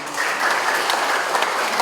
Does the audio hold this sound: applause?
yes